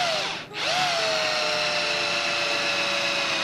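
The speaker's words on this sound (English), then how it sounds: "Just a 1/4-inch Forstner bit, came in a little set I bought, and it drills a real clean hole." A 1/4-inch Forstner bit spins up in a power drill and bores a clean hole in wood, a steady close whine that dips briefly near the start and then holds loud and even to the end.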